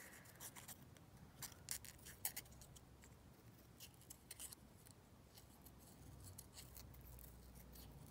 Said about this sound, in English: So I might just quickly cut this one out.